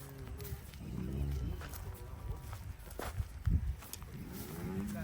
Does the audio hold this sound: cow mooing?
yes